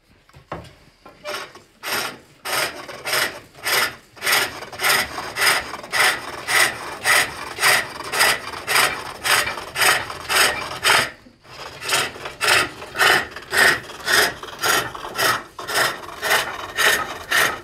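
Rhythmic scraping cuts from a reverse-grind tool plunging into a wooden Swedish-style locking lidded box on a pole lathe, bursts pulsing with each treadle stroke, close and loud with one brief pause, no talk.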